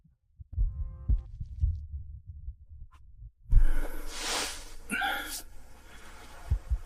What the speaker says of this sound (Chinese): 我听听他心跳。